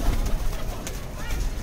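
Madrasi pigeons, a matched single-coloured male and female pair, coo softly and continuously nearby. A murmur of voices sits underneath.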